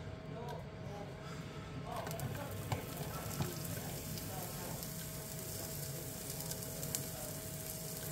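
Onions sizzle steadily in hot oil in a pan, a constant close hiss with faint stirring clicks throughout.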